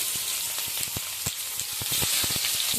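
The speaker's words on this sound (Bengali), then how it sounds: "নাড়িয়ে পেঁয়াজ দিয়ে ভাজা ভাজা হতে দেবো।" Chopped onions, whole spices and green chillies frying in hot oil: a continuous loud sizzle close by, broken by scattered sharp pops and spatters as the pan is stirred.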